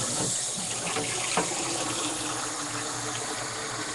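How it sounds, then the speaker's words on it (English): Tap water runs from a faucet in a steady, even hiss and gush, close and unbroken, with no talking over it. "I'm just using the tap water"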